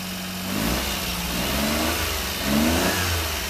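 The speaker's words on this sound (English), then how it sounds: "It's running on all 3 cylinders." Three-cylinder mini truck engine on a lifted 4x4 with a scissor-lift dump bed, running steadily close by with a slightly uneven idle that rises briefly as it is revved, no voices.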